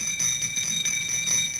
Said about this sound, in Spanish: Este es el toque de oración.